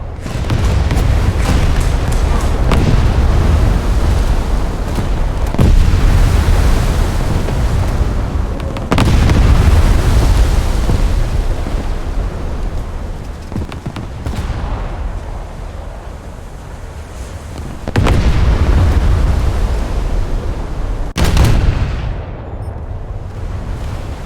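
Video game gunfire aimed at the player, heavy booming shots and blasts in loud sustained bursts separated by brief pauses, dense and close with rumbling low end.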